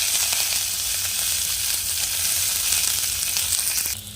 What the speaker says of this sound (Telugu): ఇవి వేగిన తర్వాత కట్ చేసిన ఉల్లిపాయ ముక్కలు, కరివేపాకు వేస్తున్నాను.